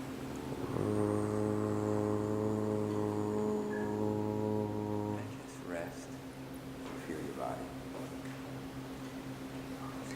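A person imitates a coastal foghorn with a long, steady, droning hum that lasts several seconds, followed by quiet background noise.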